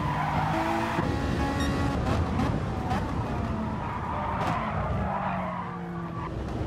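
A race car on Fuji Speedway in a racing video game skids under late braking, with a steady close tire squeal over the engine note. A commentator talks over it.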